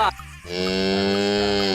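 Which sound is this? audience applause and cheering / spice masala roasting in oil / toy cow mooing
toy cow mooing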